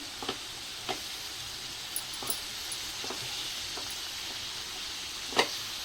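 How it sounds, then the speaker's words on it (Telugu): Cabbage and chana dal frying in a pan, a steady low sizzling hiss with scattered sharp pops and crackles over several seconds. "క్యాబేజ్ శనగపప్పు అయితే ఫ్రై అయినాయి"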